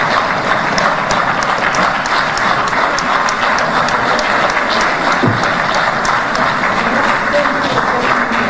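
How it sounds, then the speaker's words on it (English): Sustained audience applause at a public lecture at the University of Dar es Salaam, a steady dense wash of many hands clapping throughout with no pauses, moderately loud and even. "Another round, big of applause."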